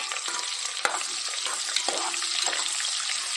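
Onions frying in hot oil and ghee for biryani after cashews have roasted, a steady close sizzle with occasional stirring scrapes and clinks in the pan.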